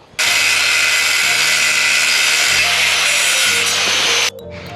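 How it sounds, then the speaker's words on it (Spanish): An angle grinder works on metal before welding at a rural house. It makes a loud, steady high-pitched whine for about four seconds and then cuts off, with no speech. "Le acabo de dar con la amoladora para que agarre la soldadura."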